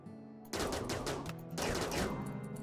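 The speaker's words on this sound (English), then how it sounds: "We're gonna take three of these guys and just shoot him to death" Firing-squad gunfire in the video game RimWorld, two rapid bursts of automatic shots, the first about a second long and the second a bit longer, loud and close with no talking.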